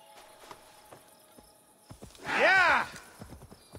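Faint hoofbeats of a ridden horse in Assassin's Creed Valhalla, soft sparse thuds in the background, broken midway by a loud, close whinny.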